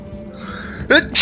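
A sharp, loud sneeze bursts out near the end over quiet background game sound, followed by another short vocal burst, with players chatting around it.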